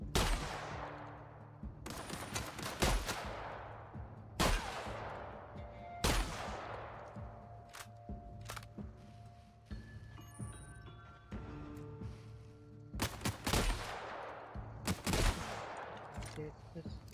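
Repeated gunshots from a harsh-recoil gun in the video game Outer Worlds, several sharp loud bursts spaced a second or two apart with decaying tails, over a low game ambience.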